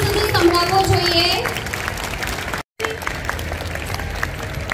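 An audience at a high school Republic Day event claps, a dense spread of applause under a loud voice on a microphone that continues after a brief cut.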